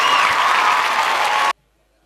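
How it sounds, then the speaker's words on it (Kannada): A large crowd standing at an outdoor women's kabaddi championship ground bursts into loud, sustained applause for the winning team, a dense wall of clapping that cuts off abruptly after about a second and a half. "ಇಷ್ಟು ಜನ ಒಂದು ಜೋರಾದ ಚಪ್ಪಾಳೆಯನ್ನ ನೀಡುವ ಮುಖಾಂತರ ತಂಡಕ್ಕೆ ಅಭಿನಂದನೆಯನ್ನ ಸಲ್ಲಿಸಬೇಕು"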